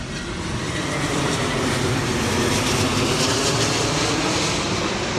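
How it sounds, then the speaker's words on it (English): A fixed-wing airplane passes overhead as a steady, loud, broadband engine roar that swells slightly and then holds, with no voices. "Airplane overhead."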